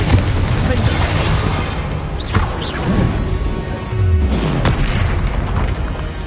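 Blasting-curse explosions from the Hogwarts Legacy spellcasting game, with heavy booming bursts and crackling impacts over dense rumbling game noise, several hits in quick succession, loud and close.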